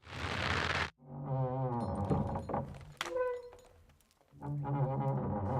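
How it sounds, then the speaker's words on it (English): Creaking wooden trebuchet frame and straining ropes in the video game Kingdom Come Deliverance 2, heard as a dense burst followed by drawn-out, tonal groaning and squeaks that swell and fade over several seconds, loud and close. "The big Cool. wooden construction and the ropes have to creak a lot."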